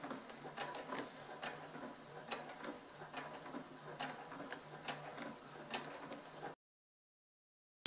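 A sewing machine stitches slowly through a faux leather half-moon zippered coin purse, making a soft, steady rattle with light periodic taps. The whirring carries on for about six and a half seconds, then stops and leaves silence.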